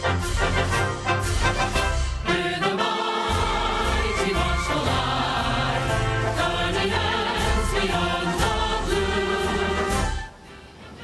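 The newly released Space Force song plays as a full, loud orchestral-band piece with dense sustained harmony and strong low end, steady throughout before dropping away near the end.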